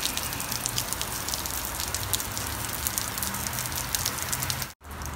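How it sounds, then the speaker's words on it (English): Rain falls steadily beside a smoking grill in a dense hiss with scattered drop impacts, continuous and fairly close, briefly cutting out near the end. "it really is raining"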